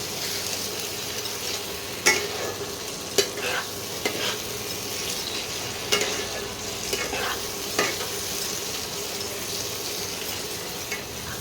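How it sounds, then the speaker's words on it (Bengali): Spice paste fries in oil for green chicken, with a constant near sizzle and regular spatula scrapes and knocks against the pot every second or so. "এবার আবার মশলাটাকে কষাতে হবে।"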